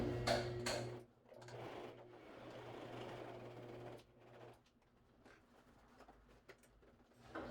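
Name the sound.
sewing machine stitching a seam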